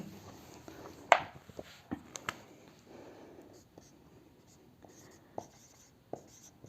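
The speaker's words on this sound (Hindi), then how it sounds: "आपको पूरा लिख देते हैं" Chalk tapping and scratching on a board during an applied maths lesson on arithmetic progressions, in short irregular strokes and clicks over faint room noise.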